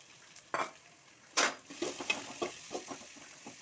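Shallots and onion fry in hot oil in a pan, giving a soft sizzle broken by a few sharp scrapes and stirring clinks, close and fairly quiet with no talking.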